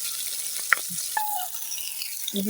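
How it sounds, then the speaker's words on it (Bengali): Kuchia eel fish fries in a pan with a soft, close sizzle, broken by a few light metallic clinks of utensils. No voices are heard. "আমার মাছগুলা ভাজা হয়ে গেছে এখন আমি তুলে নেব"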